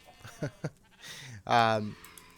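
Minecraft sheep bleat in a wavering, harmonic cry, loud and close, after two short softer bleats; someone talks quietly underneath.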